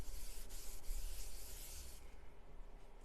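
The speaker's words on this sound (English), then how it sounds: "I'm just going to dry this, making sure to get into the corners" A microfiber cloth rubs steadily over a freshly wiped craft surface, working into the corners, producing a soft continuous swishing and scrubbing, close and moderately quiet, fading slightly near the end.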